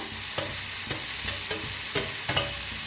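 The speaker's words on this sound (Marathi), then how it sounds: "त्याला ते छान असं भाजून घेऊया असं मिक्स करायचं बघा" Chopped onion and tomato roast in a pan for vangi bharit, a steady sizzle broken by regular scraping stirs of a spoon, about one every half second, close and without voices.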